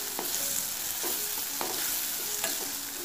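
Onion, tomato and green chilli cooking in a pan are stirred, with a quiet steady sizzle and three or four distinct scraping spatula strokes at regular intervals; no voices.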